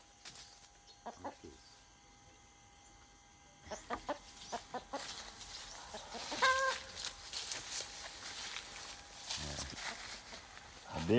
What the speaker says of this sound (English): Oh, I love the red rooster very much from the time he was a little chicken.